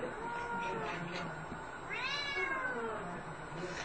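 A stressed cat meows, with a clear rising-falling meow about halfway through and softer vocal sounds before it, fairly close and indoors amid background voices.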